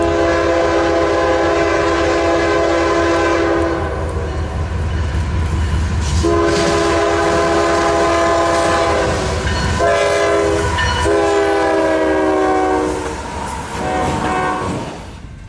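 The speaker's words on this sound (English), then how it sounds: "Q220, an auto rack train bound for Louisville," CSX Q220 auto rack freight train rolling past at close range, a steady loud rumble with repeated long horn blasts and wheel clatter throughout.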